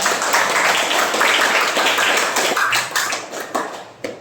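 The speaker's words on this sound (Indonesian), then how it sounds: "tepuk tangan untuk kalian semua" A class of students claps for themselves, a loud, dense burst of hand claps up close that thins out toward the end into a few scattered claps.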